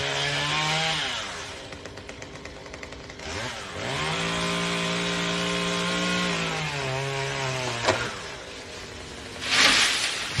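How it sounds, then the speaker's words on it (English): A chainsaw used by someone climbing a palm tree revs up and down, its engine whining and bogging in long surges with a sharp burst near the end, loud and unaccompanied by talk. "decide it's a great idea to climb a palm tree with a chainsaw"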